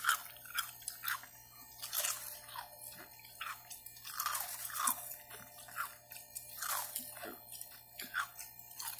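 Crunchy popcorn ice is chewed close up in repeated sharp, crackling bites with short pauses, soft and intimate with no talking.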